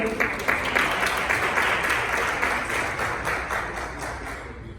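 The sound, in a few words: audience applause welcoming Dulce Almonte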